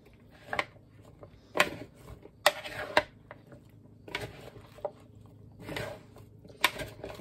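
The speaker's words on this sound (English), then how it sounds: "let's put the meat in there. And stir around a little bit" Meat stirred into potatoes in a pan, with scattered soft scrapes and clinks of a utensil against the pan at irregular intervals, fairly quiet and close, with no talk.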